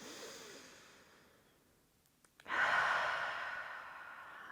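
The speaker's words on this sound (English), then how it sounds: "One more nice big inhale. Exhale." A deep yoga breath during a full-body stretching session: a long soft inhale fading down, a brief catch, then a louder sustained airy exhale, close and breathy with no talk over it.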